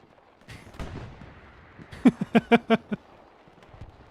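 A quick series of about six sharp, punchy bangs from grenades in an online shooter, packed close together in an uneven burst after a quieter lead-in.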